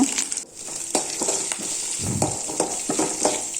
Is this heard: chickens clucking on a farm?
no